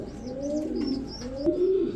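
Iceberg racer pigeons coo close by in repeated rolling, throaty phrases, with a soft chirp and a brief tap among them and no talking.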